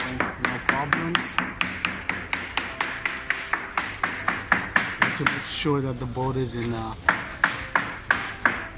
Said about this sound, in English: But the places that I tested with the hammer, I couldn't find anything obvious.